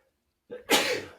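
A single sneeze bursts out after a brief sharp intake of breath, close and fairly loud against otherwise quiet surroundings.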